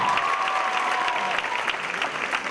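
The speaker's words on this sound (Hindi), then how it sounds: "जोरदार तालियां" Loud, sustained applause from an audience at a music and dance festival, a dense even wash of many hands clapping with a faint held tone in the background.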